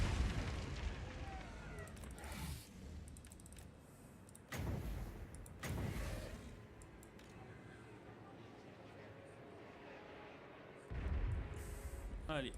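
Faint, muffled booms of Apocalypse cannons firing at a dragon in Total War: Warhammer II go off at intervals against quiet game background noise.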